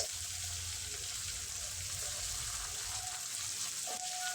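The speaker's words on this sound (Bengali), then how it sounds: "ওই তেলে ফোড়নে দিয়ে দেবো কালো জিরে আর কাঁচা লঙ্কা চেরা" Nigella seeds and slit green chillies sizzle in hot oil as the tempering for a puti fish and vegetable chorchori, giving a soft, steady hiss throughout with no talking.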